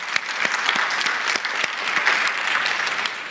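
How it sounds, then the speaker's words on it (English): Conference attendees applaud themselves for staying to the end, a steady wash of many hands clapping with a few sharper individual claps standing out, sustained and fairly close. "give yourself a round of applause for being here"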